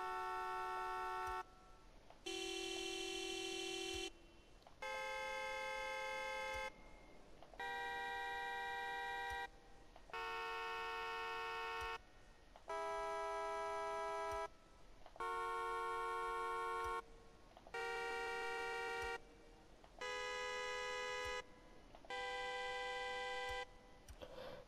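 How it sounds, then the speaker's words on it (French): Car horns from the racing video game The Crew 2 play one after another, about ten distinct tonal honks of roughly two seconds each, separated by short gaps, clean and alone without talk. "Ça, c'est tous les klaxons qu'on a dès le début du jeu."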